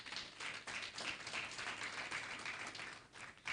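A crowd applauding, steady scattered clapping from many hands that carries on without a break. No one speaks.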